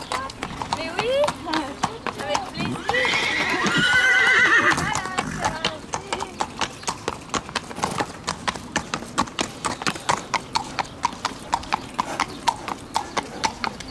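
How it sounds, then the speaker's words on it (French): Several horses on an outdoor ride by a lake clip-clop in a brisk, continuous rhythm of hoofbeats, while a loud whinny rises in the middle and people talk over the herd. "C'est joli de voir tous ces chevaux comme ça."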